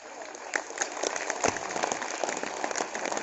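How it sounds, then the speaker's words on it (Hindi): Weak, thin applause from a kavi sammelan audience, a soft patter of scattered claps heard from a distance, continuous and fairly even for a few seconds. "आपकी कमजोर ताली आई है।"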